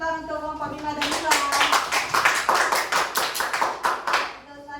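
A classroom of students applauds groups 5 and 6, a burst of quick, dense clapping that swells for about three seconds and then fades, with a teacher's voice briefly heard before it starts.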